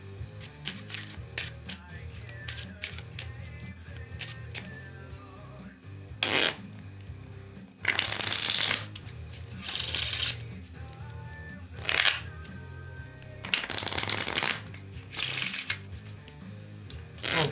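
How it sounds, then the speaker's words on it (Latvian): A deck of playing cards is shuffled close up for a card trick, with repeated riffles and rustling handling across the stretch and occasional soft talk. "es jums iedodu kārtas un jūs viņus samaisiet cik vien vēlaties"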